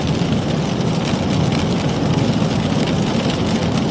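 A pickup truck stuck in snow and freezing rain, its engine revved near full RPM while the wheels spin, producing a steady, loud, low roaring drone with no break, heard alone without talk.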